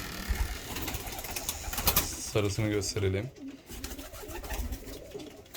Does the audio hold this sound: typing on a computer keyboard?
no